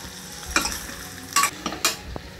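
Stuffed ridge gourds going into a pan of spiced oil, giving several short sizzling bursts with stirring and utensil scrapes between them, close and fairly quiet.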